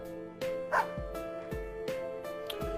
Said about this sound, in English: Snowy barks once as if comprehending its name.